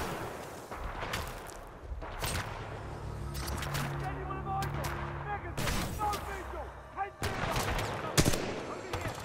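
Player firing a weapon in the Titanfall 2 campaign, scattered sharp gunshots and short bursts at moderate level among other game sounds.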